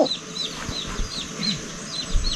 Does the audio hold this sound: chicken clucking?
yes